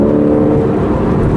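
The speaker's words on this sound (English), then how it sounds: "This thing's got sport exhaust." Porsche 911 Carrera with sport exhaust revving at close range, a loud steady engine drone with strong low harmonics held throughout, no talking.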